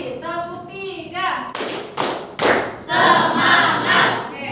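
A group of children doing a rhythmic clapping routine of three claps in a classroom, with sharp close claps in short bursts, broken up by an adult voice and children chanting.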